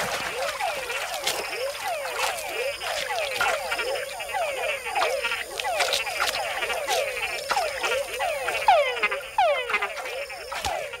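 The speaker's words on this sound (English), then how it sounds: "And with other bigger frogs nearby, a call can be a fatal attraction." Dense chorus of many frogs calling in a Panamanian rainforest, with rapid overlapping chirping croaks repeating continuously and loudly throughout, near and far voices layered, no talk.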